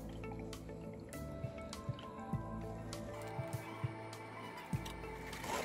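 Ground fresh mint juice is strained, making quiet, scattered drips and small liquid splashes close by, irregular over a faint background.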